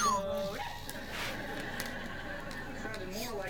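A dog whimpers and yelps in high, wavering cries, then short barks follow amid background noise and voices.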